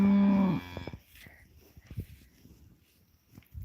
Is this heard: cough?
no